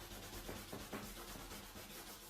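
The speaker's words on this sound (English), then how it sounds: "you can start to rub out your construction lines" Rubber eraser scrubbing pencil construction lines off paper during an art class, a steady close rasping rub with quick back-and-forth strokes, faint and continuous with no talk.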